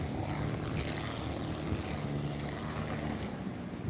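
A petrol engine revving hard somewhere nearby, a steady droning roar with low rumbling harmonics that holds at an even loudness throughout, with no voices over it.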